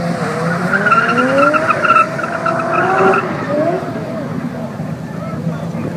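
Race cars at a street race in Rauma launch hard from the start line, tires squealing in long loud sliding tones over the roar of engines, which fade slightly as the cars pull away.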